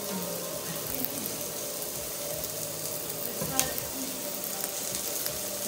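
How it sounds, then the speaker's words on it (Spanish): Vinegar hitting a hot pan of chicken escabeche gives a steady, even sizzle and frying hiss lasting throughout, with one brief sharper crackle midway and no talk. "le voy a agregar un poquito de vinagre."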